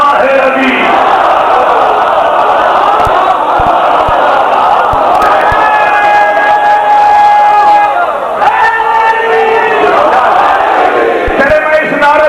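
A large audience at a 15 Shaban celebration gathering shouts a religious chant in unison, loud rising crowd voices in repeated waves with sustained held tones, filling the whole space.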